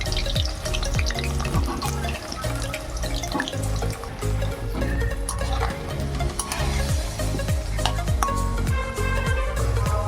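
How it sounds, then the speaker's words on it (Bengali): Potato pieces fry in hot oil, a dense, loud, continuous bubbling sizzle with crackling bursts throughout and no voices. "আমি আলুগুলো ভালো করে ভেজে নেবো"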